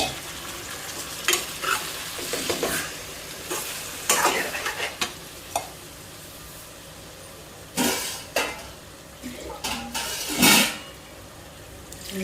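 Tamarind water is poured into an egg curry simmering in a pan, setting off sharp bursts of sizzling and bubbling between quieter stirring, close and loud.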